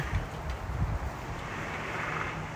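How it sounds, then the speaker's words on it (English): Strong wind blows outdoors in San Diego, a steady roaring rumble buffeting the microphone throughout, with low gusts near the start. "It is quite windy out here."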